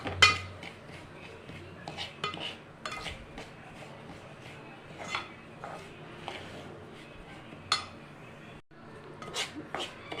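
Upma rava roasting in melted ghee in a pan is stirred with a metal utensil, giving soft scraping and scattered clinks against the pan, close by, with faint voice in the background.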